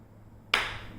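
A single sharp hand clap rings out during a family game at home, loud and close, followed by a brief fading tail with no talking.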